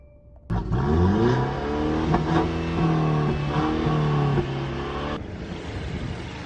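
A Mercedes car engine starting on the first crank, catching with a sharp burst and then idling steadily up close with a smooth mid-pitched hum that dips slightly near the end.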